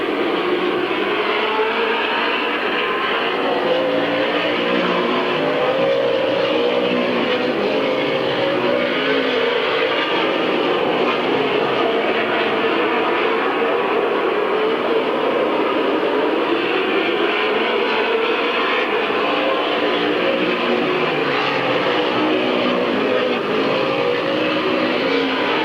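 Race cars circling the track at Midvale Speedway in 1997, a steady, continuous engine roar holding at a constant level throughout, with a faint public-address voice barely audible under the noise.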